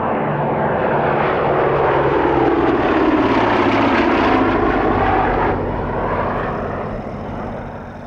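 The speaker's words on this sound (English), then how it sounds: "The Blenheim is displaying in Coastal Command markings of 254 Squadron." A Bristol Blenheim twin-engine warplane in Coastal Command markings makes a flying display pass at a Duxford airshow, its propeller engines droning loudly and steadily overhead before gradually fading as it moves away.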